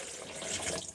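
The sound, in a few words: water poured in for blueberry drink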